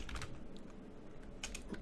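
Faint clicking of keys on a computer keyboard, a light scattered run of taps with a brief pause in the middle, close and quiet with no talk.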